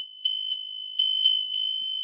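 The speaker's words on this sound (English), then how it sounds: "Let's get the bell." A small bell rung to cleanse energy during a tarot reading: about five clear, bright strikes, quick and unevenly spaced, with a sustained ringing tone that lingers alone between hits.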